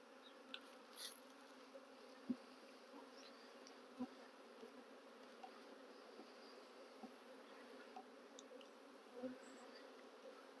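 Honeybees hum in a faint, steady drone around a hive frame during queen grafting work, with a few tiny clicks and knocks scattered through.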